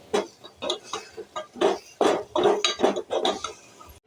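A spoon stirring brinjal and tomato curry in a cooking pot, with repeated scraping and clinking strokes in an irregular rhythm, close and fairly clear.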